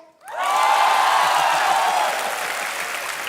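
A studio audience on The Kapil Sharma Show bursts into loud, sustained applause and cheering, a dense wash of clapping that swells quickly and holds steady, with scattered whoops.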